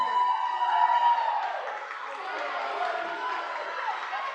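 A crowd at a robotics competition cheers and shouts from the stands in a sustained, loud roar with whoops, fairly distant and reverberant, as the round plays out.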